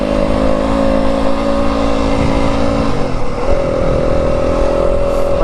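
A 2025 Yamaha WR250F dirt bike rides through the Arizona desert, its engine loud and close with a steady high drone that shifts pitch as the throttle changes partway through.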